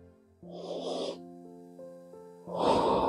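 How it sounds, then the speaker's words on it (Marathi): Deep yoga breathing, with one long, breathy inhale or exhale followed by another, over sustained soft tonal background music. "श्वास घेऊया, सोडूया."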